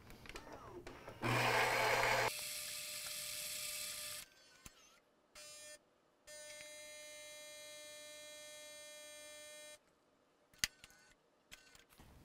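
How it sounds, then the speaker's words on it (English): A Gaggia Anima bean-to-cup espresso machine set to five-bean strength grinds loudly for about a second, then hums and pumps in stretches with short pauses and clicks as the espresso brews. "And in one touch, we have delicious bean to cup espresso."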